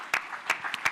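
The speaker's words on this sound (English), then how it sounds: "a big applause for Mr. Počivalšek" A handful of separate, fairly close claps from an audience at a tourism conference, brief and sparse over low background noise.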